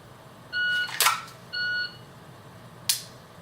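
Two short electronic shot-timer beeps sound a second apart during dry-fire draw practice, each followed by a sharp crack, with another crack later.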